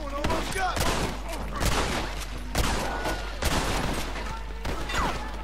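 Rapid gunfire in Red Dead Redemption, repeated sharp shots in bursts and volleys throughout, loud and close, over a steady game soundscape.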